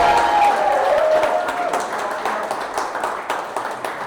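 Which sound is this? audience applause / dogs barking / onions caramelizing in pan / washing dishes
audience applause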